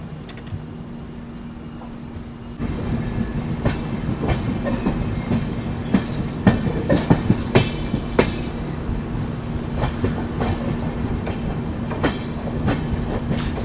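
The Kolkata–Sairang Express pulls into New Haflong, a hill station ringed by mountains, in sun and rain. A steady rolling rumble is broken by sharp clicks of wheels over rail joints, with no talk.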